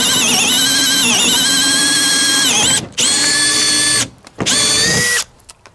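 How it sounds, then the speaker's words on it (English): A Makita 18V compact drill bores holes into a 4x4 wooden post, its motor whining loudly and steadily in three long runs separated by short pauses. "we're going to drill some holes into this 4x4"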